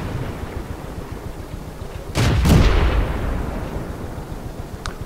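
A single heavy tank-cannon shot fires in World of Tanks, a deep booming blast that swells and rolls off over a couple of seconds above a steady low engine rumble, with a faint click near the end.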